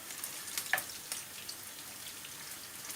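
Soft, steady sizzling of İzmir köfte meatballs frying in a pan, with faint crackles and pops scattered throughout at low volume.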